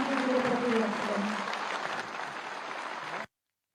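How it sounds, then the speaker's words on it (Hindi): An audience claps in steady applause for the Uttar Pradesh chief minister at a public function. The sound is moderately loud at first, with a voice briefly audible under it, then tapers slightly before cutting off abruptly. "एक बार जोरदार तालियों से अपनी कृतज्ञता माननीय मुख्यमंत्री जी के प्रति व्यक्त करें"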